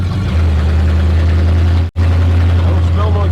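A 1955 Pontiac engine running with exhaust leaking into the cabin gives a steady, loud low idle rumble heard from inside the car, broken by one brief dropout near the middle.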